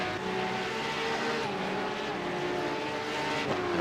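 A Porsche GT3 Cup race car in iRacing at Bathurst, a steady high-revving engine drone holding a constant pitch with slight shifts, continuous and fairly loud.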